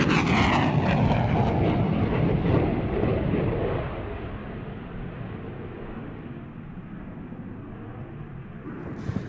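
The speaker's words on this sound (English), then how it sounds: "here comes the Dassault Rafale C." A Dassault Rafale C fighter jet roars past at an air show flying display. A loud, broad engine rumble slowly fades and thins as the jet moves away.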